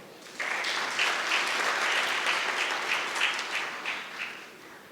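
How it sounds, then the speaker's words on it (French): A room full of people applauds at an International Population Day ceremony for a public health ministry official. The steady, dense clapping starts abruptly after a brief quiet moment and holds strong throughout, easing slightly near the end. "Je vous prie de l'applaudir, s'il vous plaît."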